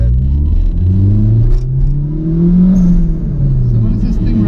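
A 1988 Toyota MR2 AW11 engine revving up close, a loud, rumbling tone sweeping upward and then easing back down, with people chatting nearby.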